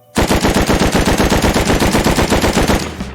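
An HMLMG light machine gun fired from the hip in the video game Rust lets out one loud, fast, continuous burst of evenly spaced rapid shots lasting nearly three seconds, then stops abruptly.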